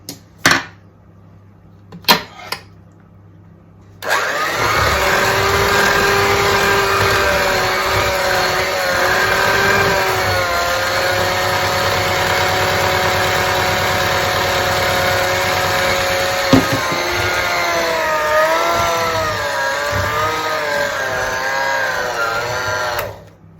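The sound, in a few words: electric mixer beating egg mixture into banana muffin batter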